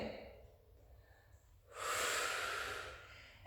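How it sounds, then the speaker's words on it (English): Deep breathing during a Pilates stretch: a soft drawn-in breath, then a long loud breathy exhale lasting over a second, close and alone in a quiet room. "So breathing in and breathing out."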